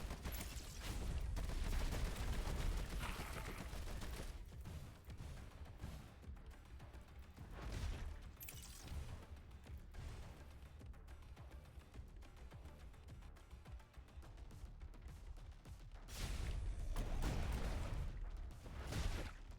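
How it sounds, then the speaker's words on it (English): Homing rockets fire repeatedly in the action ARPG DreadHunter, a loud barrage of booming launches and blasts in clustered bursts at the start and end, with steadier rumbling combat in between. "I'm just gonna send homing rockets at you."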